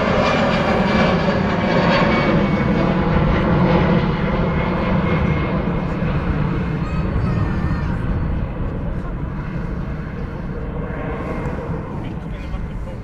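An airliner on its ILS approach into Manchester Airport at about 1,500 feet gives a steady, loud, broadband engine roar that eases slightly toward the end, with a voice talking over it.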